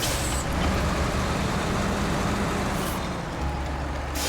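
A loud vehicle engine in a firefighting video game drones continuously with a dense, broadband roar that holds steady throughout, with no talking.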